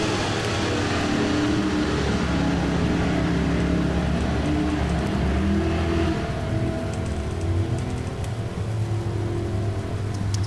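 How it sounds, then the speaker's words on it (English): Drag race cars, a Ford then a Chevrolet, launch one after the other in a bracket race, a sustained loud engine roar building and layering over about ten seconds with no voices. "Brian's off in his Ford. Here comes Kenny in the Chevrolet."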